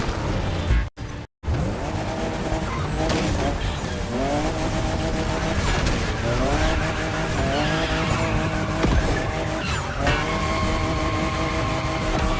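A fifth-generation Toyota Supra races in The Crew Motorfest, its engine revving and shifting loudly with tire squeals and skids throughout, over game music, with a brief dropout near the start.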